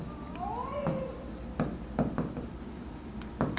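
A pen writes by hand on paper while working an accounting exercise, giving close, scratchy strokes in short bursts with brief pauses between them. No one speaks.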